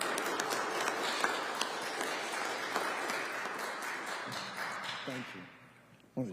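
Applause for a congressman at a political event, a steady, fairly distant round of clapping from an audience that lasts several seconds and then tapers off as a voice begins to speak.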